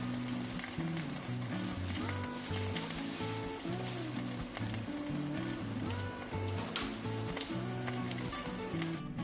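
Chives pancake sizzling steadily in a hot pan, a continuous close crackling fry that holds evenly throughout, with faint tonal background sounds underneath.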